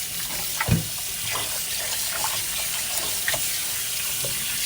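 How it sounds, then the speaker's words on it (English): A kitchen tap runs with a steady stream of water splashing into a sink, with a soft clunk near the start and small splashes along the way. No voices are heard. "So I'm going to turn the water on."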